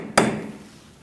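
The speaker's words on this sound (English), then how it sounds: "I'm going to unpeen the nut using a punch and a hammer." A hammer strikes a punch once to unpeen the axle nut on a 2002-2006 Toyota Camry, a single sharp, close metallic impact with a short ringing decay, and no talking.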